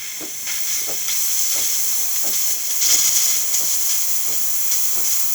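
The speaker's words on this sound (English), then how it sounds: "it's going to start pushing steam" A serviced DeLonghi Magnifica espresso machine pushing steam after pumping water: a steady, loud hiss with a faint rhythmic pump pulse beneath, continuous and close with no talking.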